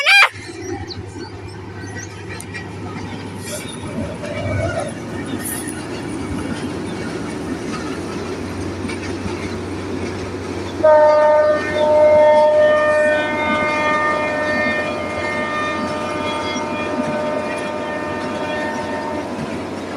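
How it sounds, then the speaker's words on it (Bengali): A train passing close by outdoors, a loud sustained rumble and rattle of rolling wagons with piercing metallic wheel squeals rising midway and continuing as the cars roll past; no talk. "ওই তো আসছে ট্রেন"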